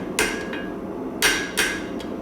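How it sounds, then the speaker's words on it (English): A hammer strikes metal during scrolling work, landing three sharp ringing blows at uneven intervals, with a lighter tap in between and a faint one near the end. The blows come close up with no talking. "Move my hammer angle to there. Strike in. Strike again."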